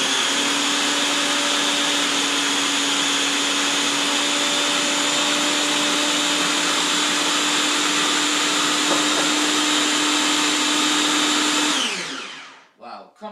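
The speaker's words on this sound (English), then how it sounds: "we have to add the oil as we had the food processor running" Food processor running steadily while pesto blends as olive oil is added, a loud constant whirring motor that stops near the end, leaving brief faint rattles.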